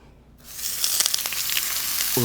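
Pork skewers hit a hot grill and break into a loud, steady sizzle with crackling pops, following a brief quiet moment.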